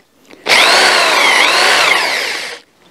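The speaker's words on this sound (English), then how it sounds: "I know that I'm drilling perpendicular with the rafter" A power drill whines loudly for about two seconds, bite changing as it bores through a timber log rafter, then stops abruptly.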